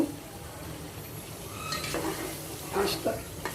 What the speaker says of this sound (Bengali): কলিজিটা আপনারা যত বেশি কষাবেন তত বেশি মজা হবে